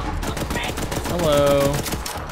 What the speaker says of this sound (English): My gun makes a weird sound